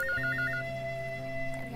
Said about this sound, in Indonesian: Ada telepon gak sana nih.